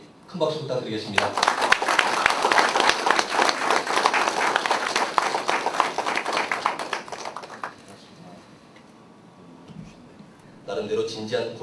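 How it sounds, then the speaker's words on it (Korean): Loud, sustained applause from an audience at a lecture event, filling most of the stretch before fading into quieter room noise, with voices briefly audible at the start and end. "큰 박수 부탁드리겠습니다"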